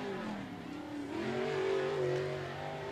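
A super late model stock car laps Thunderhill Raceway, its engine note heard from a distance as a rising and falling rasp as it accelerates through a turn.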